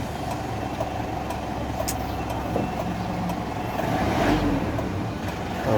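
A Mitsubishi Strada pickup engine runs steadily at idle with a continuous low rumble, swelling slightly near the end, heard close with no talk after its trouble code P1276 was cleared.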